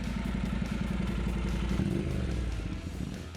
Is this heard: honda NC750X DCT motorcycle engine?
yes